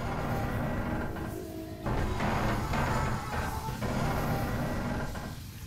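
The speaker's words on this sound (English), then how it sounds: "that is the sound of everything starting to slowly collapse under the water pressure from outside" In the video game Subnautica, a sea base with hull strength below 10 strains under outside water pressure, giving a dense, low, rumbling groan with creaking swells that rise and fall steadily throughout.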